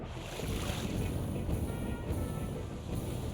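A video game waterfall rushes as a broad, constant wash of roaring water, loud and close, filling the scene without pause and with no voices over it.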